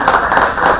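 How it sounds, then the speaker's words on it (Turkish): Spectators clapping at a football team's training session, a dense, loud patter of applause with no gaps, brief and continuous. "Bu hareket antrenmanı izleyenler tarafından alkışlandı."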